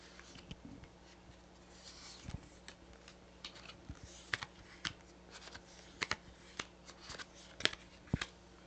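Tarot cards laid out on a table and handled, giving soft papery slaps, flicks and rustles at irregular intervals, close and fairly quiet.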